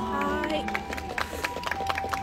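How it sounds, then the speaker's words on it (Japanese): Scattered audience clapping breaks out in loose, uneven bursts during an Instagram live performance, following a short stretch of voice and a held musical tone. "もっと大きな拍手をお願いします。"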